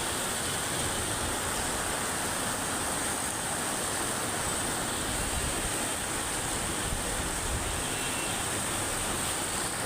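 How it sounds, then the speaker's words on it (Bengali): Heavy rain pours down outside, a dense, unbroken roaring hiss holding at the same strong level throughout, with no voices. "এখন এত জোরে নামছে বৃষ্টি।"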